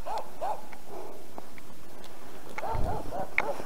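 A dog barks outdoors in a snowy village in winter, a few separate barks at moderate distance with pauses between them, alongside crunching footsteps.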